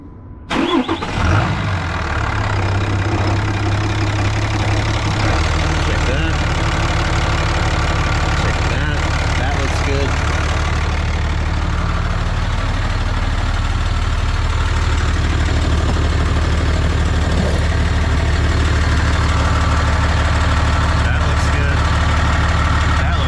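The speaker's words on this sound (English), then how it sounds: "it was my idea to actually start the truck to see if it's gonna work" A third-generation diesel pickup truck with a freshly installed Sinister Diesel coolant filter cranks and fires, then settles into a loud, steady idle rumble close by that continues throughout.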